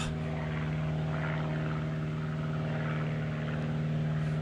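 An airplane passes overhead above a woodland, a steady, continuous engine drone with a deep hum that holds level throughout, fairly close and unbroken, with no talking.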